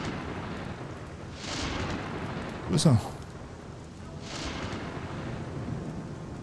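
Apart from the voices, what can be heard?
thunderstorm in the video game Gothic 2 mod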